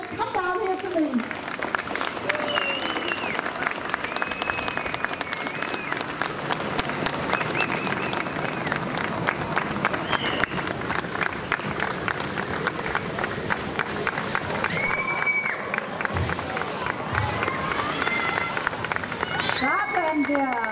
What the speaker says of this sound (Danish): So now, when they are applauding of you, you just come down here to me.